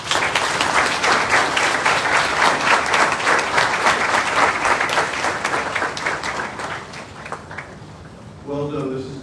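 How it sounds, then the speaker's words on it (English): A seated audience at a youth health care and medical symposium breaks into loud, dense applause that holds steady, then thins out as a voice begins speaking near the end. "I think you deserve a round of applause"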